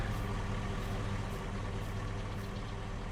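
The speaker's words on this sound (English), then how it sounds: "there's a tractor." A tractor engine idles steadily in Farming Simulator 22, a continuous low mechanical rumble that holds an even level throughout, with no voices.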